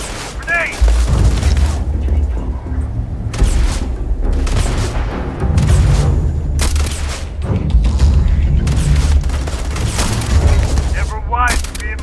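Grenade blast in the video game Starfield, a loud booming burst amid a dense barrage of gunfire and explosions, with a voice speaking briefly over the chaotic combat.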